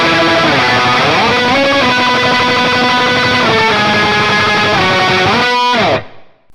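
Distorted electric guitar tremolo picking through a Bocchi the Rock! song's pre-chorus, a dense, loud, continuous wall of rapid notes with shifting chords, cutting off abruptly near the end.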